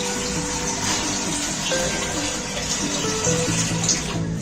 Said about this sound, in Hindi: अब इसमें हम 2 से 3 लीटर पानी शामिल करेंगे।